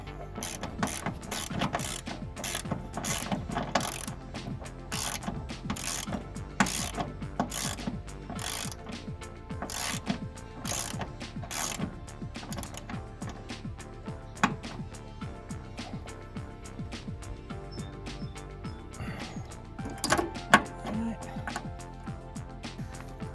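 A hand ratchet tightens a nut on the control arm of a Craftsman riding mower, clicking in quick bursts of sharp pawl ticks with short pauses, close by and fairly quiet, along with some light rubbing and handling noise.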